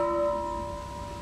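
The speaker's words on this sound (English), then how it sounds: "Bell is made from an old nitrogen tank." A bell made from an old nitrogen tank rings once with a clear sustained metallic tone that slowly decays, heard alone and close.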